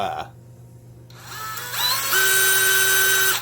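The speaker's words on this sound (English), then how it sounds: "I am using a really long aircraft drill here" A long aircraft drill bit bores into a stainless steel trailer hitch receiver lock, heard as a close, loud power drill whine that drops out briefly, then spins up again and holds a steady high-pitched grind.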